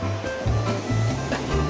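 Strong ocean surf rolls in at Na Thong beach in Khao Lak on an overcast, rainy day, with a steady low roar and repeated washes of breaking waves under gusty wind.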